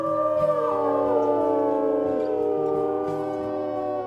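Several wolves in a wolf pack video game howl together in long, overlapping, sliding tones, loud and sustained throughout with a steady low rumble underneath.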